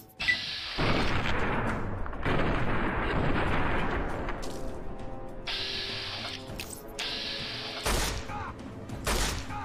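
Gunfire in the Fallout: Tale of Two Wastelands game, several loud cracking shots and booming blasts in bursts, with mechanical clicks between them.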